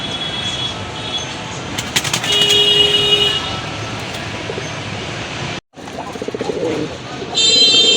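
Domestic pigeons, including a white-tailed Rajgolla male, cooing in bursts against loud background noise with a tonal horn-like hum and a sharp break midway.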